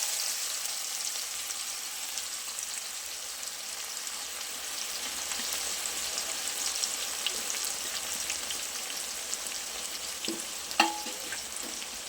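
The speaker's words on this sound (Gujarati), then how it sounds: "ઝીણી સમારેલી ડુંગળી ઉમેરી દઈએ." Finely chopped onion fries in hot oil with bay leaves, cloves and asafoetida for a masala khichdi, a dense, even, rain-like hiss running throughout, with one faint utensil tap near the end and no voices.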